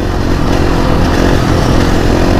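A dual sport motorcycle being ridden, its engine droning loud and steady up close with a constant rough rumble and no break.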